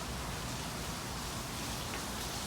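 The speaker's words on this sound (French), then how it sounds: "Il pleut de ouf." Heavy rain falls outdoors at Universal Studios Orlando as a steady, broadband hiss, moderately loud and unbroken, with no voices heard.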